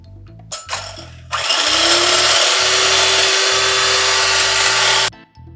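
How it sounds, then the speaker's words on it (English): Egg yolks whisked with sweetened condensed milk and vanilla for Vietnamese egg coffee give a loud, steady whirring buzz that runs for about four seconds after a few short knocks, then cuts off. "and we're gonna whisk it"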